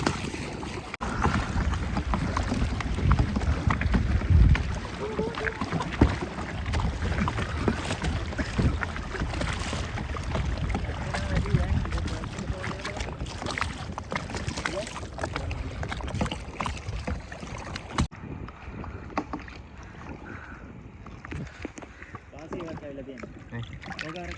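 A kayak is paddled across a lake at Kantale, with steady water swishing and wind rumbling against the microphone, under people's continuous talk.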